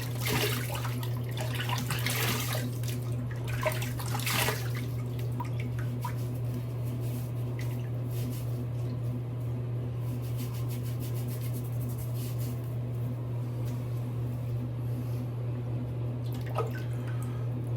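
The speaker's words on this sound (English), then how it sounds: "Let's rinse and do the full shave." Water runs steadily from a tap while a razor is rinsed during wet shaving, with a constant low hum underneath and scattered drips and light clinks.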